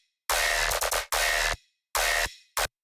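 A tearout bass drop built from self-made bass samples, with no group processing: heavy, gritty bass bursts in choppy stop-start phrases separated by short gaps of silence, loud and dry with no voices.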